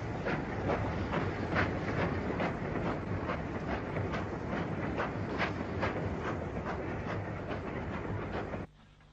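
Crab 2-6-0 steam locomotive number 42782 hauling a train of coal wagons with a Midland brake van at the rear; a steady loud rumble with regular rhythmic beats throughout, cutting off abruptly near the end.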